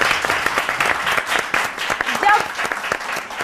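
Audience applause at a weekend show, a busy patter of many hands mixed with voices and chatter throughout, fairly close and continuous for a few seconds.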